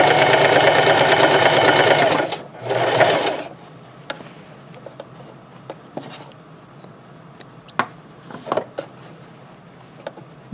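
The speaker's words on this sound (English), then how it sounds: "A little back stitch" A sewing machine back stitching a scrub cap runs in a loud close burst, pauses briefly, runs again, then gives way to scattered handling clicks and taps.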